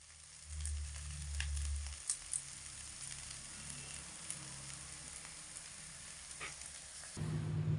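Malabar spinach seeds fry with garlic and chili in oil, a soft steady sizzle with faint stirring scrapes, quiet and close, with low rumbling thumps at the start and end.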